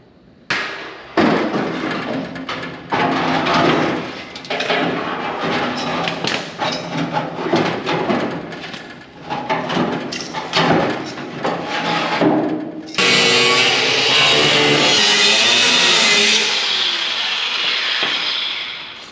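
Heavy hammer blows and thuds as wheel tubs are persuaded into the trunk of a rust-free 1966 Ford Mustang fastback, a dense run of loud, irregular strikes followed by a harsher, sustained grinding or scraping stretch near the end.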